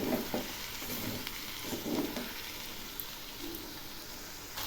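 A vegetarian jackfruit curry with cashew, raisin and seed paste is stirred in a sizzling pan. Soft scraping strokes sound over a steady, faint frying hiss, close by, with no talk.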